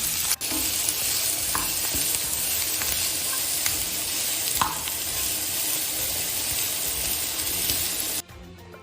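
Vegetables sautéing in oil in a pan, giving a continuous loud sizzle and hiss with occasional stirring scrapes throughout, ending abruptly; no one speaks.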